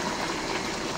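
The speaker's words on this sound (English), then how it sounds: "So I'll put a little bit of water." Water poured into a cooking pot while making Cameroonian kondrè, a brief, steady splashing gush at moderate volume with no speech.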